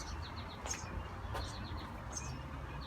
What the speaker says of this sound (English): I don't know if you can hear, but there's sparrows.